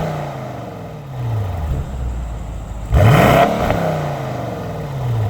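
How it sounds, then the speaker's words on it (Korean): BMW M850i Gran Coupe xDrive exhaust with the muffler flaps still closed: a steady low engine drone whose pitch glides up and down, then a louder, sharper rev burst midway that settles back into the rumble. "제가 이 M850i 그란 쿠페 머플러 사운드를 들려드릴 텐데요"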